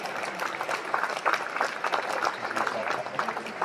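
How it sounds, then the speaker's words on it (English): Audience at a comedy show applauding, steady mid-level clapping with dense individual claps throughout, with some crowd noise mixed in. "Give yourselves a round of applause."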